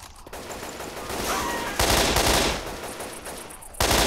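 Rapid burst-fire gunshots in the video game Left 4 Dead 2, dense loud crackling volleys running almost continuously with brief changes in intensity.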